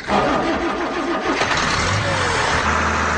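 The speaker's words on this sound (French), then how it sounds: "voilà la machine qui pétarade à tout va" A nearby engine sputters and rumbles loudly, popping unevenly before settling into a rough, steady running noise.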